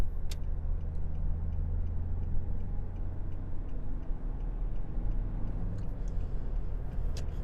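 Nissan Navara 2.5 pickup engine pulling steadily in fifth gear at motorway speed, a constant low drone heard from inside the cab with faint ticking clicks over it.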